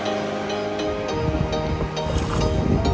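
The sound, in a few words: flowing water of the Metolius River at the fish hatchery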